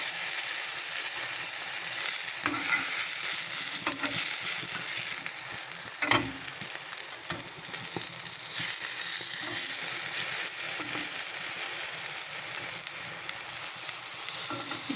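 Eggplant slices frying steadily in oil in a pan over medium-low heat, a continuous close sizzle with a few soft scrapes and knocks as pieces are turned, no talking.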